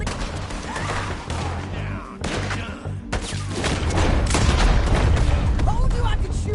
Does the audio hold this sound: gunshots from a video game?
yes